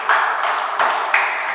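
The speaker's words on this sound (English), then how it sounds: "Wow, I love the applause." Audience applause fills a hall during a motivational talk by spiritual guru AiR, heard as a dense, steady wash of clapping that swells slightly in waves and carries on without a break.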